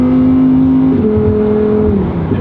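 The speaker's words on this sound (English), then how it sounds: "So you got to really rev up the car to hear the sound" A Lamborghini Huracan Tecnica engine hums steadily, then revs up to a higher pitch and holds there before easing back down, loud and close.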